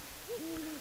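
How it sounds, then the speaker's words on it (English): A distant owl gives a short rising hoot followed by a longer, steady drawn-out hoot, faint and alone against quiet background hiss. "an owl hooting."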